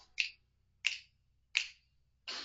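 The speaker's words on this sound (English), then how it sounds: "Snap your fingers now" Three crisp, evenly spaced finger snaps ring out alone in a quiet room, about two-thirds of a second apart, followed by the start of a fourth, softer and broader sound.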